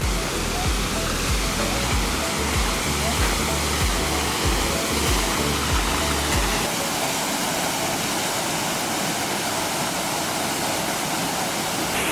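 Spearfish Falls, a small waterfall in Spearfish Canyon, pours with a constant loud rushing roar nearby, and brief low wind buffets break in during the first half.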